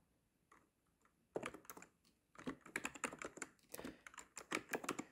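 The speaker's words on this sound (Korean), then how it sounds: "컨트롤 S를 눌러서 이제 저장을 할 거고요." Computer keys clatter in quick, irregular bursts at close range, starting sparse and building into dense runs of crisp clicks toward the end, with no voices.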